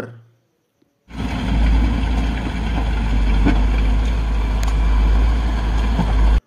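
After a second of near silence, a motor grader's heavy diesel engine starts rumbling loudly and steadily, a deep continuous drone close by for the rest.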